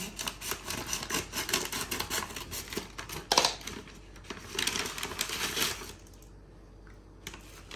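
An Amazon parcel is cut open with scissors or a blade, giving close crackly snips and rustling cardboard and tape in bursts that fade into near quiet at the end.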